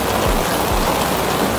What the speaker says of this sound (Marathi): गोवा आणि पाऊस.